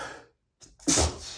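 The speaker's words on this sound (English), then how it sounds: "I think I'm gonna sneeze." A person sneezes once. A soft breath comes first, then a short pause, then the loud, close burst of the sneeze.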